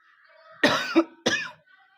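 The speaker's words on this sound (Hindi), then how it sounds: "खांस ले बचवा, खांस ले" Two harsh coughs close together, the first with a short raspy tail, each loud and near against a quiet background.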